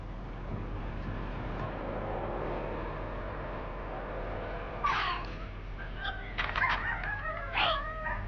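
Police dogs of a dog squad during a training demonstration at a college, with short barks and yips rising out of a loud, steady outdoor rumble near the end, fairly distant.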